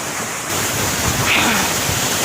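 Rushing water at Neer Waterfall near Rishikesh, Uttarakhand, a steady broadband roar that swells slightly after the first half-second and holds continuous and fairly loud throughout, with no voices.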